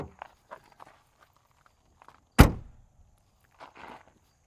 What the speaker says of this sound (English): is there anything more exhilarating than a firm sounding car door?